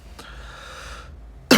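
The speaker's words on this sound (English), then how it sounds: "A trademark cough at this point." A single short cough bursts out near the end after a faint click and quiet room tone, close and sharp.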